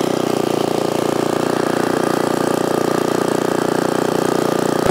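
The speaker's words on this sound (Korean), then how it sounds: "자, 이렇게 시동을 걸고 저도 똑같이 한번 사용을 해보겠습니다." A 6.5 hp four-stroke, dual-shaft mini cultivator engine runs steadily at a constant speed, a loud, close mechanical drone with a fast, even putter and no talking.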